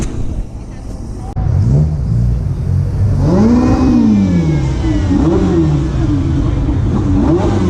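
The engine of a yellow Ferrari revs up and down in repeated rising and falling pulls, loud and close, with a steady roar underneath.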